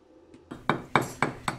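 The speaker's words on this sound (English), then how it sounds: "you have to peen the weld pretty well using a slag chipping hammer" A slag chipping hammer strikes a stick weld on a cast iron vise five times in a steady rhythm, each blow a sharp, ringing clank, close and fairly loud.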